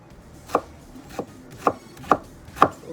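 A knife cuts salmon into cubes on a board, five crisp, evenly spaced chops sounding up close with no talking.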